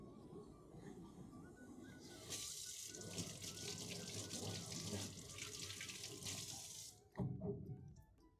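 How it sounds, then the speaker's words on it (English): Tap water runs steadily into a sink as hands are washed at a hookah tobacco factory, a continuous close splashing hiss for about five seconds before cutting off, with faint voices in the background. "let's wash our hands"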